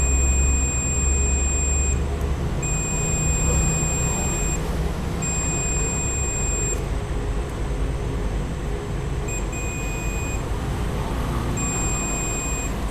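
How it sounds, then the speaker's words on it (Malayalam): A continuity tester's buzzer checks the starter motor contact of a motorcycle self-starter, giving loud high-pitched electronic beeps in repeated on-off bursts over a low steady hum, with no voices. "അതിൻ്റെ ബോഡിയിലോട്ട് ടച്ച് ചെയ്താൽ ബസർ സൗണ്ട് വരുന്നുണ്ട് എന്നുണ്ടെങ്കിൽ മോട്ടർ കോണ്ടാക്റ്റ് കറക്റ്റാണ്"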